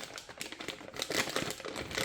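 An OBD2 scanner being taken out of its box and plastic bag: close, rapid rustling and crinkling of plastic with light tapping handling noises, continuous and moderately quiet, with no speech.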